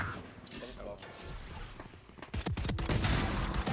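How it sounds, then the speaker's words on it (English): Bursts of gunfire ring out during a gun duel in a first-person shooter, a steady clatter of shots that grows louder and denser over the last second or so, layered over background game noise. "Let's see if we get any gun duels here."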